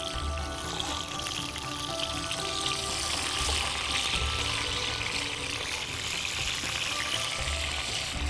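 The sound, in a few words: tomato frying in very hot oil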